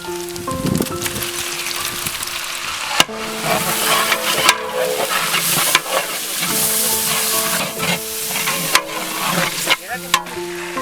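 Ginger garlic paste and chopped tomatoes fry in a pot for Ambur chicken biryani. A loud, close sizzle runs throughout, broken by repeated stirring scrapes and a few metallic clanks of the spoon.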